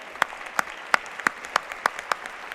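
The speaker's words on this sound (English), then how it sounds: "join me with a big applause for our panelists" Applause for panelists at an international plenary dialogue session, heard as a sparse, evenly spaced run of about eight distinct, crisp claps, fairly close and without any talk.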